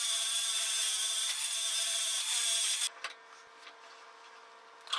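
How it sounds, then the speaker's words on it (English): A stainless steel wire wheel strips paint from aluminum clamped in a vise, making a loud continuous whirring grind that cuts off abruptly and leaves a faint spinning-down hum. "I'm going to clamp this up in a vise and use a stainless steel wire wheel on it."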